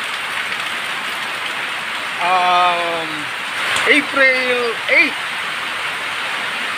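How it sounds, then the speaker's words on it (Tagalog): Heavy rain falls steadily on a farm where goats are kept, a dense constant hiss throughout, with someone speaking briefly over it. "It's maulan day at maghapon na naman ang maulan."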